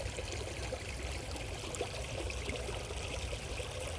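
Water trickles and streams steadily, a dense, even wash of flowing sound that stays at a constant level throughout, with no voices over it.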